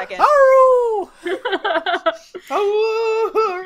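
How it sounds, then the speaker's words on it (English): A dog whines and yelps up close, with long drawn-out whimpering howls broken by a quick run of short, sharp yips. "Oh, sorry about the dog."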